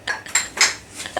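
Stainless steel cooking pot knocked and handled, close and loud, with several sharp metallic clanks and brief ringing tones spaced about a quarter second apart.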